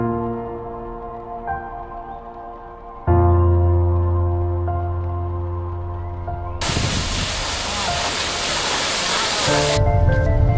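A waterfall in eastern Nepal rushes as a loud, broad roar, entering abruptly partway through and holding steady to the end, with a voice heard briefly before it.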